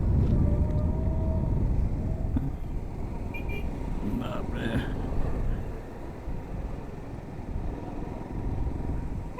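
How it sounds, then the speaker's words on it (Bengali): A motorbike rides along a mountain road near Sach Pass between Dalhousie and Killar, its engine and wind noise forming a loud continuous rumble that dips slightly partway through. "তা আমি বাইক চালাচ্ছি মানে আমি শেষ কথা।"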